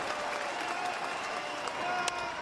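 Baseball stadium crowd of over 17,000 on its feet at a Major League game, a loud, steady wall of cheering and clapping with no break, one sharp burst near the end.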